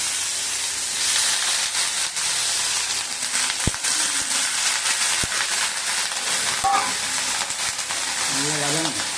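Eggplant fries in oil for a pachadi with a constant close sizzle and hiss, crossed by a few sharp clicks and scrapes. Near the end, a voice briefly hums or speaks faintly under the frying.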